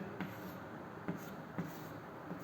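Chalk or marker strokes on a classroom board while chemical formulas are written, soft scratchy marks with a few sharper taps spaced about half a second apart, fairly quiet.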